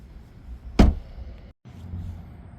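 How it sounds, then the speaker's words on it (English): The passenger door of a 2026 BMW M340i slams shut once, a single solid thud against a quiet interior hum, followed by a brief moment of silence. "So let's shut the passenger door"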